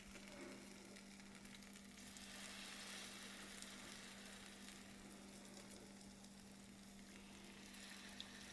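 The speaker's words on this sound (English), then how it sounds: "I'm just going to drop this down into that hot oil" Cornbread fritter batter fries in hot oil in an iron skillet over medium-high heat, giving a steady, soft, continuous sizzle with a low hum underneath and no talk.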